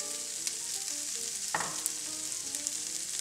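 Parsley and nuts dropped into a hot pan for wild rice stuffed mushroom caps, a faint continuous hiss and sizzle with one sharp clatter partway through and light scattered ticks, no talking.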